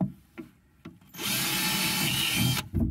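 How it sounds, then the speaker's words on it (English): Power drill boring a pilot hole into an old wooden dresser during a refurbishing job: a few brief taps and short bursts, then a loud, steady whine of the drill running continuously for about a second and a half before it cuts off. "I'm going to go ahead and drill a pilot hole."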